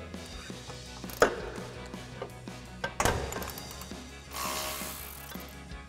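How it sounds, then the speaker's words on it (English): A 12 mm socket ratchet clicks in quick bursts while backing a bolt out of a suspension bracket on a Toyota Tundra, close and fairly loud, with a couple of sharp metallic knocks between the runs of clicking. "We're gonna grab a 12 millimeter socket, gonna remove it out of the bracket."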